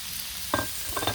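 Frozen onion and pepper sizzle on a Blackstone griddle next to browning ground beef, a short close burst of hiss with two brief scraping stirs.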